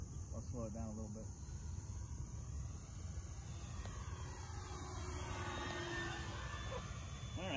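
An E-flite P-51D Mustang 1.5M RC model airplane flies under power with flaps down on its maiden flight, a steady distant motor drone that rises into a whine as it passes, over outdoor insect chirping.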